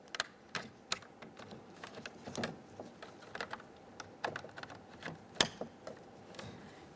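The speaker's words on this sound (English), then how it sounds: "Press them in, listen for a click." Switches snap into the door switch panel of a 1998-2011 Ford Ranger, producing a close series of sharp, irregular plastic clicks and taps with quiet handling noise between them.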